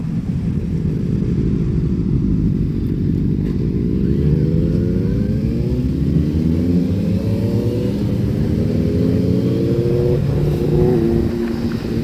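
Benelli motorcycle engine on a road, with a continuous loud drone and rising, sweeping revs through the gears, heard alone without talk.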